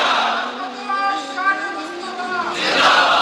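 A crowd at a religious gathering marking Yaum al-Badr chants slogans together, loud sustained voices rising in unison and swelling again toward the end.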